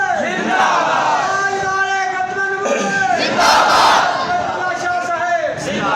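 A large crowd at a Milad religious gathering chants loudly and in unison in response, with voices swelling into a sustained roar and rising toward the end.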